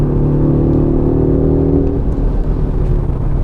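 Audi RS Q3 Sportback SUV engine droning loudly and steadily from inside or close by, a deep even rumble with a slight rising and falling pitch and no voices.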